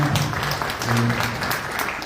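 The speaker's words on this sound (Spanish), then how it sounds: "Un gran comunicador, un aplauso para Juan." Applause from the audience at a Guarani language and culture event, a steady broadband clatter lasting about two seconds with voices and talk running underneath.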